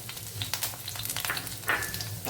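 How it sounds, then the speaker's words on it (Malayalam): Small pieces of ginger and green chili frying in coconut oil for cucumber pachadi, a steady close sizzle with a few light crackles and stirring sounds over about two seconds. "ഇവിടെ വെളിച്ചെണ്ണ ഒഴിച്ചു കൊടുത്തിട്ടുണ്ട് അതിലേക്ക് ഒരു ചെറിയൊരു പീസ് ഇഞ്ചി അതേപോലെ ഒരു ചെറിയ പീസ് പച്ചമുളക്"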